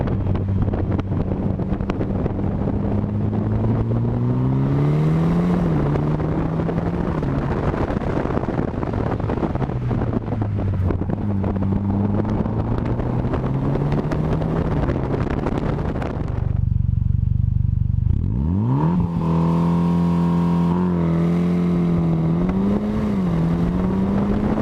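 Car fitted with Firestone Firehawk Indy 500 tires and launch control, heard from a camera mounted outside the car: engine revs rise and fall through repeated gear changes under loud buffeting wind noise.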